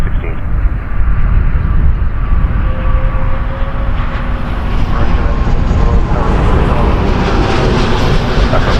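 A Turkish Cargo Boeing 777 freighter at Toronto Pearson Airport, heard as a loud, steady jet engine roar that holds through the whole stretch and brightens slightly toward the end, with wind noise at an airport at night.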